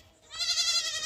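A goat bleats once, a close, wavering and fairly loud cry lasting most of a second after a short quiet start.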